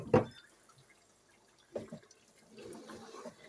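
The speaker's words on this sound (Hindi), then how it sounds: "लेकिन मैं थोड़ा सा पानी ऐड करूँगी, ग्रेवी करूँगी" Water is added to a chicken handi gravy in a pot: a loud, brief splash right at the start, then a long quiet stretch and softer wet bubbling and stirring noises toward the end, with no talk.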